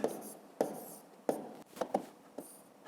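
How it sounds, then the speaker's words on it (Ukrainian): Pen or pencil writing a column multiplication problem by hand on paper, a quiet run of short scratchy strokes and taps with brief pauses between them, close and fairly soft, with no talking. "Пишемо тоді 225 помножити на 15."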